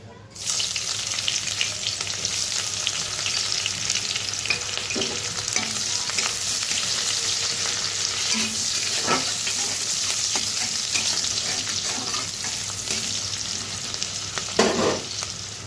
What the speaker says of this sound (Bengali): তেলটা গরম হয়ে গেছে তো কুচানো পেঁয়াজটা ছেড়ে দিই